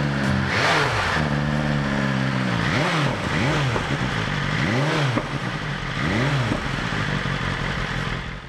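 A stock BMW S 1000 RR sport bike engine idles and is blipped several times, each rev rising and falling quickly in a clear arched sweep, close and fairly loud with no talking.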